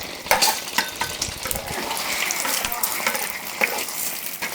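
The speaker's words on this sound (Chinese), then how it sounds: "这个炒鸡蛋的时候，这个油温差不多也有4、5成热了，把这个前面打好的鸡蛋倒下去" Beaten farm-fresh eggs hit hot oil in a wok with a loud, continuous sizzle and crackle that holds steady throughout, with a few sharp spatters rising above the hiss.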